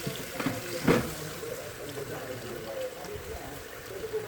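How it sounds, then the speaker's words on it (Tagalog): Water poured into a cooking pot of fish soup with pepper, a short splashing burst near the start followed by softer liquid sounds, with a person talking nearby. "Lalagay tayo ng tubig."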